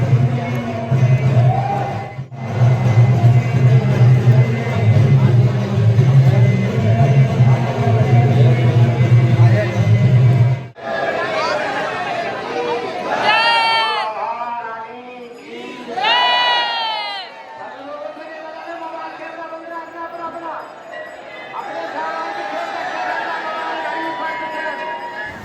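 Dense crowd at the Banke Bihari temple, a loud drone of many voices with shouts and chanting rising over a steady babble, briefly cutting out, then continuing as scattered calls and chatter.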